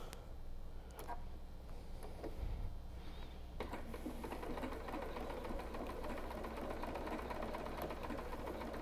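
A sewing machine topstitching the edge of a fabric face mask, a rapid, continuous mechanical chatter that starts after a few seconds of quieter handling and then runs steadily, close and even, with no talking.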